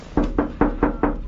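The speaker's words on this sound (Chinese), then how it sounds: "这就是铁皮的声音，" Five evenly spaced knocks on bare, uninsulated sheet metal inside an RV, each a dull, ringing thud struck close by, with no talking.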